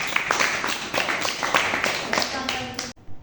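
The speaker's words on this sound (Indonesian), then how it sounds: "Silakan beri tepuk tangan teman-teman." Classmates clap together in a classroom, a brisk close burst of applause of scattered claps that stops abruptly after about three seconds, with voices mixed in.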